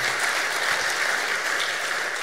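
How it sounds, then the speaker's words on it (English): At a natural resources forum, an audience breaks into steady, dense applause, many hands clapping at a consistent, fairly loud level for a couple of seconds. "Round of applause,"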